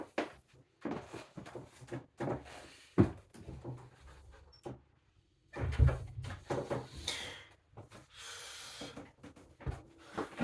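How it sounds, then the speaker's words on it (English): An indoor door is closed, with scattered soft thumps and handling noises spread over several seconds, faint and close in a quiet room. "I just have to close the door for a second."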